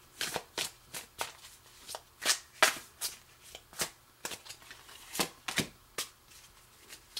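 Tarot cards are shuffled in a quick, uneven series of crisp riffling bursts, close and fairly quiet, with no talking.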